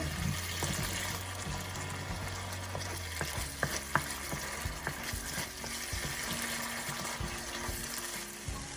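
Tomatoes sauté in a pan for dal makhani with a steady, close sizzle, punctuated by scattered clicks and scrapes of stirring and a low hum beneath.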